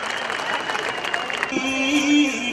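An audience breaks into applause after stage performances, a broad wash of clapping that fades as a sustained musical tone comes in.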